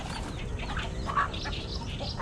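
Hens and newly hatched chicks cluck and peep together in a backyard flock, a steady close chorus of soft clucks with a brief louder call midway, with no talking.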